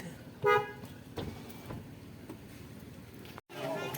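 A short car horn toots once nearby over low traffic and background chatter.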